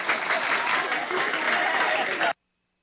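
A crowd claps in a sustained, dense burst of applause for about two seconds, with a steady tone running through the recording, before it stops abruptly into silence.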